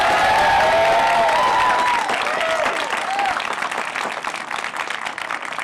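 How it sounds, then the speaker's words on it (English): A large audience at an in-person college commencement claps for the graduates, dense sustained applause with some cheering and whistles that gradually thins and softens over several seconds. "Let's give our graduates a hearty round of applause."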